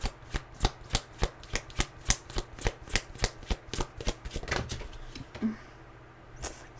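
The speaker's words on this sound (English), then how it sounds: "These cards are not shuffling very well." Rapid, rhythmic riffle of tarot cards being shuffled, a steady run of crisp snaps close by, then a final soft settle and quiet.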